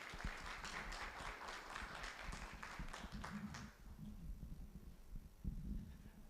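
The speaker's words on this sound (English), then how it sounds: "With a round of applause, let's welcome him." Applause from the audience at a UK–Ghana trade and investment forum greets the UK trade commissioner for Africa as he comes up to speak. Faint, steady clapping from a crowd dies away midway, leaving quiet room noise with low voices.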